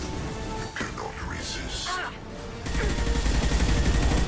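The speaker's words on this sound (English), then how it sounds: "You can see the bullets firing pretty wildly at range there." Gunfire in the sci-fi shooter Mass Effect 2 with wildly inaccurate shots at range, heard as a dense crackling burst of shots rising at the end, preceded by someone talking over quieter background combat.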